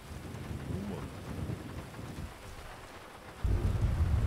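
Steady rain hisses while low thunder rumbles in the distance, the rumble swelling louder near the end.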